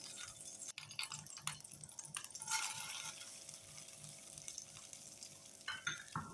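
Vermicelli and cardamom roast in a tablespoon of ghee in a pan, giving a soft, quiet sizzle broken by scraping stir strokes and occasional crackles, with no voices.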